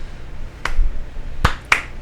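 A slow golf clap: three light, sharp hand claps spaced unevenly over a couple of seconds, sparse and moderately close in a quiet room.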